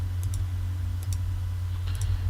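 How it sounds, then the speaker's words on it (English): Regular computer mouse clicks used while building in LEGO Digital Designer, three brief pairs of sharp, faint clicks spaced about a second apart over a steady low hum. "I prefer just using regular mouse clicks."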